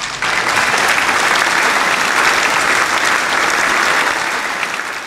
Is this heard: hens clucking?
no